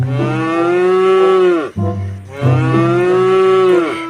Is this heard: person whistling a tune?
no